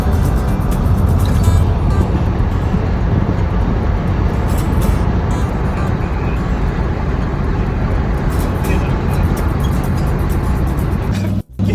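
A car cruising on a freeway, with a loud, continuous road and engine roar filling the cabin that cuts off abruptly at the very end.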